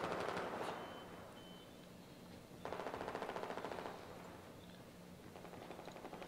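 Battlefield 4 gunfire during an ESL competitive match, bursts of rapid automatic shots at moderate distance, quiet overall, with one sharper burst midway and a few trailing shots toward the end.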